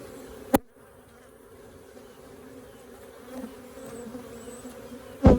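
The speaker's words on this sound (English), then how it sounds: "You got this many bees in a box" Honeybees buzz steadily in a hive box, a faint continuous drone that swells slightly toward the end, with sharp clicks or knocks at the start and end.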